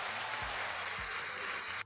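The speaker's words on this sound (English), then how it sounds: "Round of applause for freedom!" Applause for a streamer marking freedom from a Minecraft diamond debt, a steady broadband wash of claps at moderate level, filling the moment before cutting off abruptly.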